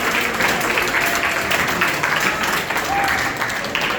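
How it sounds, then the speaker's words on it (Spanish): An audience at a school debate applauds steadily for a few seconds as a jury member is introduced, with dense, even clapping and faint voices underneath. "Fuerte aplauso, por favor."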